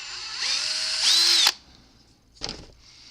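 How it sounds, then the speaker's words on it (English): A power drill bores a 13/64 hole through a plastic RC car part for a wheelie bar install, whining loudly and rising in pitch for about a second and a half, then stopping, followed by a short second burst. "And I'm going to drill this hole out here."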